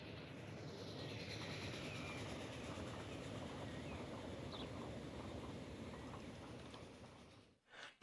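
A steam train in the Transport Fever 2 game rumbles past as a broad, steady roar with faint rhythmic clatter, fading near the end before a short final swell.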